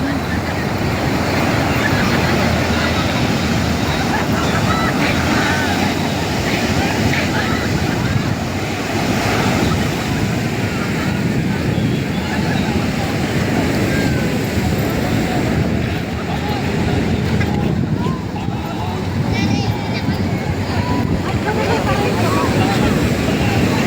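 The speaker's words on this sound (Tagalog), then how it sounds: "Oh, ang lakas talaga ng alon" Strong surf pounds the beach at Eco-Park Agoo, La Union, a loud continuous wash of crashing waves mixed with heavy wind buffeting the microphone.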